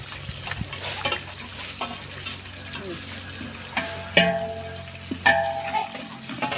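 About a kilo of onions fry in a large pot for biryani, a soft continuous sizzle with spoon scrapes and two sharp metallic clinks near the end.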